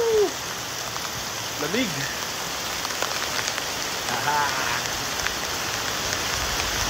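Heavy rain pours steadily on a surface in a rural province, a constant dense hiss throughout, with a person briefly speaking and whistling or exclaiming near the start and middle.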